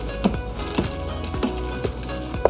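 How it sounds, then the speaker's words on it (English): Shredded cheese is stirred into mac and cheese inside an Instant Pot, giving soft sticky scrapes and sloshing pulls about every half second over a low steady hum, with no talk. "all I'm gonna do is just kind of stir this until it comes together"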